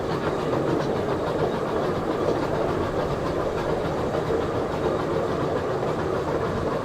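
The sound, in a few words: Safari Express zoo train ride clickety-clack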